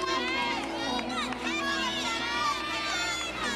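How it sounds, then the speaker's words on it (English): Dense crowd noise of teammates cheering a gymnast on the balance beam at a 2006 Georgia at Alabama NCAA women's gymnastics meet, a continuous bright wash of shouts and voices in an arena. "You can hear her teammates cheering her on the sidelines."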